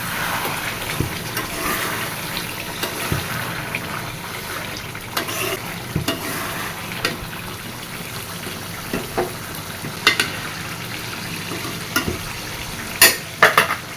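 Chicken curry frying in a pan, a steady sizzle with scraping stirs and sharp clatters of the spoon against the pan, close and fairly loud, no talking.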